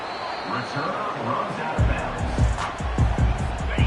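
A dense, roaring stadium crowd in a college football video game fills the space, with repeated heavy thumps cutting through the din and a commentator voice partly audible underneath.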